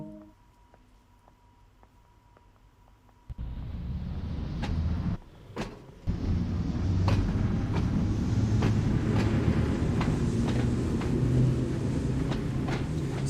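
An Isle of Wight train in the Train Sim World 2 video game departs Shanklin: quiet cab hum, then a sudden loud rise of motor and rolling rumble, briefly cut, then building steadily with repeated clicks.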